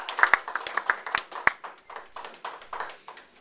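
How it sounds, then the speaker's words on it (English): A small audience at a performance claps in a thin, uneven round, individual hand claps distinct and close, fading gradually over a few seconds with no talking. "Give Seth a nice round of applause."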